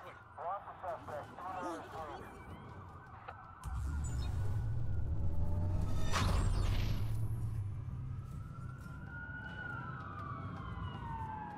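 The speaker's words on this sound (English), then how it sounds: "That's a lot of sirens for a blackout." Police sirens wail from the Watch Dogs game world during a blackout, a steady loud wash with rising and falling tones. It follows an opening stretch of talk and carries on to the end.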